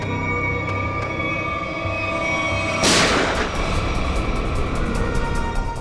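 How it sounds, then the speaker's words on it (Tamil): A sudden sharp gunshot-like blast cuts in midway through a scene from the Tamil crime drama CID, its loud burst fading into a rumbling, noisy tail over a steady background hum. "எங்க இருந்து புல்லட் சத்தம் கேக்குது?"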